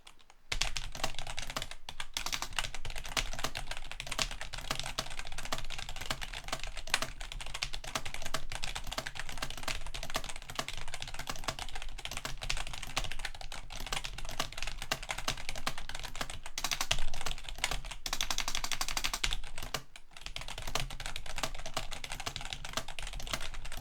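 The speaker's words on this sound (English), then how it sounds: "Let's do a quick sound test comparing my old keyboard." Steady, continuous clacking of keys on a Monsgeek M1 custom mechanical keyboard, fast typing without a break for over twenty seconds, close and clear, no talking.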